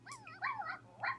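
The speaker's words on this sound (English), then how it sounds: "I think we're gonna get a puppy." Virtual puppy in a life-simulation video game making a few short, high yips and whimpers, soft and close, with a faint steady hum underneath.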